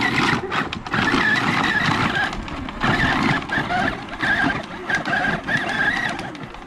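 Small electric ride-on toy car upgraded to run on a 20V drill battery, its motor and wheels grinding steadily and loudly over the ground for several seconds, with faint voices in the background.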